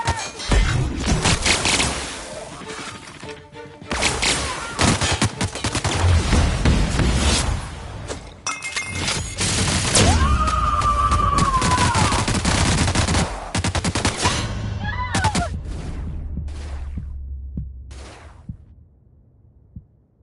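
Sustained automatic gunfire and scattered single shots in a sci-fi shootout in The Outer Worlds, loud and dense for most of the stretch before thinning into a few last bursts and fading.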